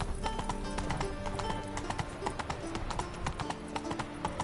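Roach, the horse in The Witcher 3, gallops with a quick, even clip-clop of hooves over a dense bed of game music and ambience, with faint keyboard clicks alongside.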